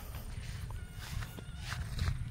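Footsteps of a person walking on a farm where goats are kept, a steady series of soft, close steps over a rumbling outdoor background.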